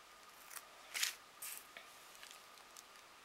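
Scissors snip paper for a pocket letter craft, a few faint, crisp cuts close by in a quiet room, with a couple of slightly louder snips mid-way.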